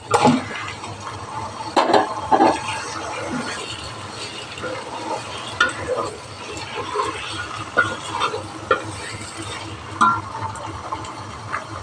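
Washed raw chicken going into a cooking pot with rice for a white chicken pulao, wet splashing and sloshing thuds with clinks and scrapes of handling, uneven bursts over a low background hum.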